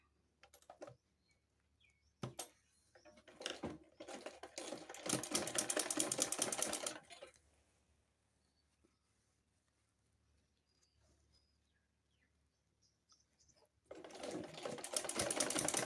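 A sewing machine stitches a skirt hem in bursts: short runs early, a sustained whirring stretch in the middle, a quiet pause, then another steady run at the end, heard close and alone.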